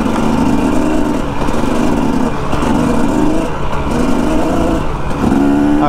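Dirt bike engine close by, revving in repeated surges with rising pitch between gear shifts, ending in fourth gear, loud and steady with no talk.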